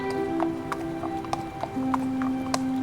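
A horse's hooves clip-clop at a steady walking pace, each hoof strike crisp and clear over a sustained musical tone, with no one speaking.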